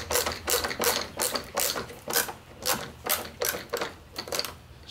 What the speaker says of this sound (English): we're just going to take our T20s and the screwdriver and screw these back in